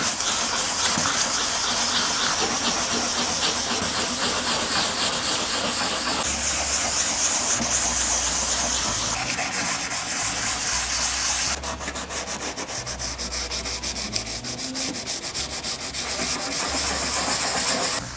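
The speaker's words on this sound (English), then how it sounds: "I'm going to get started with some grit 400 and I'm going to wet sand it, and I am going to do this by hand." A car headlight on a Civic, foggy with peeling clear coat, is wet sanded by hand with 400 grit sandpaper: continuous close, hissing rub strokes with a slightly watery grit texture, steady and loud throughout, with no talking.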